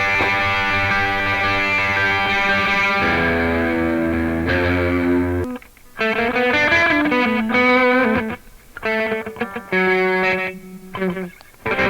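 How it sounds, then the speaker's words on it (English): An electric guitar run through a Spark boost, a Durple drive and a TC Electronic digital delay, with reverb from the amp, plays sustained distorted chords and then choppy bursts of riffing with short gaps, loud and close, with no voices. "We've got the Spark boost, we've got the Durple drive, we've got the TC electronic digital delay"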